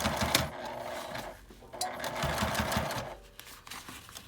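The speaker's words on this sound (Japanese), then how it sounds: "横に引くような感じで端ミシンをかけます。" A sewing machine runs edge stitching along a zippered fabric toilet paper case, a steady close mechanical whir with a few brief pauses and restarts across a few seconds, no voices.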